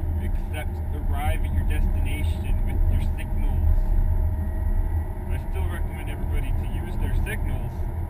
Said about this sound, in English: but that's all you're doing when you're driving the Corolla